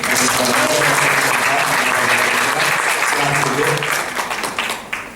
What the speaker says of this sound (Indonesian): Tadi mari ibu-ibu beri tepuk tangan.